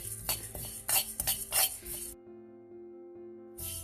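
Sesame seeds roast in a pan for an Andhra-style podi, with a metal spoon scraping and clinking through quick stirring strokes for about two seconds, then near silence broken only by a low steady hum before the stirring resumes briefly.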